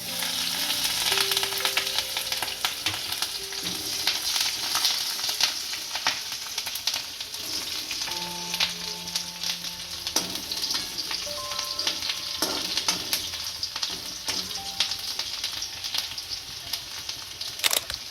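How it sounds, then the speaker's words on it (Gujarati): Chopped green chillies drop into hot oil already holding cloves and star anise, for a spinach and mung bean curry. A soft, steady sizzle with light stirring scrapes runs throughout, with no talking. "આમાં કટિંગ કરેલા લીલા મરચાં નાખીશું"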